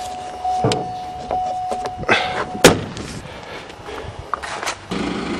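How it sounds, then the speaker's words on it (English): A heavy car door on a turbocharged Volvo with a chopped exhaust slams shut with one loud, sharp thud near the middle, among softer knocks and rustles nearby. "Ugh, heavy doors."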